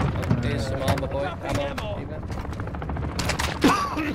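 Video game gunfire crackles in quick bursts of sharp shots, close and loud, mixed with players chatting over voice chat.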